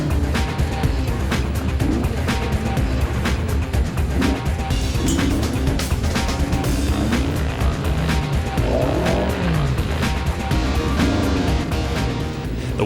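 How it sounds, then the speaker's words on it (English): A Lotus Exige rally car spins through a pirouette on a wet NSW rally stage, engine revving and tires squealing in rising and falling sweeps, close and loud throughout. "car 89, the Lotus Exige, was going awfully well, with a lovely pirouette to finish"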